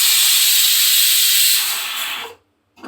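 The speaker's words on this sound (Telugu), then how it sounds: "చిన్న చిన్న విజులు వస్తున్నాయండి" A pressure cooker full of mutton keema lets off a loud, steady hiss of escaping steam that fades after about two seconds, then a brief faint puff follows after a pause.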